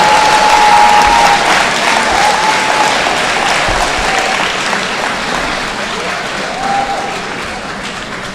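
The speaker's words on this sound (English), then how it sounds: "How about a round of applause for the Ralph Armstead Toolship winners?" An audience at a senior awards night applauds, a dense, loud wash of clapping from a large crowd that slowly fades over several seconds, with a few faint voices and whistles mixed in.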